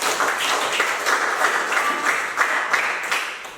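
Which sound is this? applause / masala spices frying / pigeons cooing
applause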